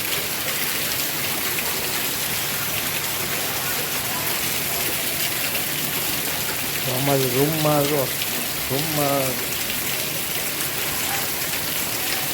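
Heavy monsoon downpour in Surat pours steadily as a dense, even hiss throughout, with a person speaking briefly near the middle over the rain.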